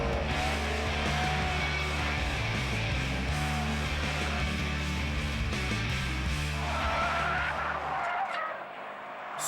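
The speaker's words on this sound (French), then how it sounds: "Sur le circuit de l'Ouest parisien, nous avons poussé la WRX STI dans ses retranchements." A 2010 Subaru Impreza WRX STI pushed hard on a circuit west of Paris, its engine roaring loud and continuous with tire skidding and squeal, before the noise drops away abruptly near the end.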